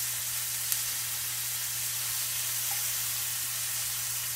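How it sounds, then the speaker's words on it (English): Liver and onions fry in a small skillet, a steady faint sizzle and hiss with a low hum underneath, no voices. "just gonna let that fry until the onions get done"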